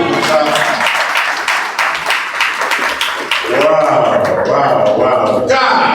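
A church congregation applauds during a fasting and prayer service, with sustained, dense clapping under voices and cheering, loud and close throughout.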